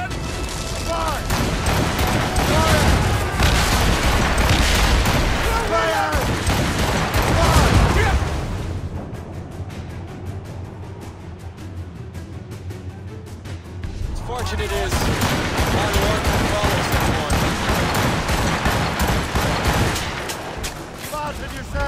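Loud, dense volleys of cannon fire in the video game Assassin's Creed Rogue, with booming blasts overlapping continuously, a brief lull in the middle, and shouting voices mixed in.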